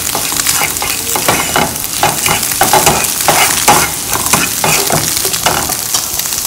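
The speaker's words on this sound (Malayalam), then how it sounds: "ഇനി ഇത് നന്നായിട്ട് മുട്ട സ്ക്രാബിൾ ചെയ്യാം." Eggs are scrambled in a hot pan, giving a loud, steady sizzle with rhythmic scraping and stirring strokes close up and no talking.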